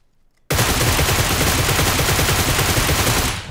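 Sustained automatic fire from a Groza rifle in the mobile game PUBG Mobile begins abruptly after a short quiet moment, then runs as a loud, continuous rattle of rapid shots for about three seconds before cutting off.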